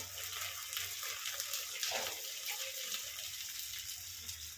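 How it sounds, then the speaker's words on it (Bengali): Water is poured into a cooking pot of frying garlic and ginger paste, a soft splashing hiss that swells briefly and then settles into a quiet sizzle, no talk. "আর একটু দেবো জল"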